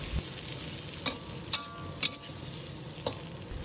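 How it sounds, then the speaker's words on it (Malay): Chilies and other ingredients sauté in hot oil in a wok, a soft steady sizzle broken by a few sharp clinks and scrapes of stirring. "panaskan minyak dalam kuali dan tumis semua bahan-bahan tadi"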